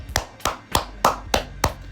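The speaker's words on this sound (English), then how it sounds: "I want everybody at home right now, just clap." Six sharp hand claps land in a steady, slightly uneven rhythm about every third of a second, close and fairly loud over a quiet background, with no voices in between.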